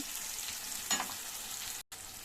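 Tomato curry ingredients frying in a pan, a continuous soft hiss of sizzling oil with a short scrape from stirring near the middle and a brief dropout just before the end.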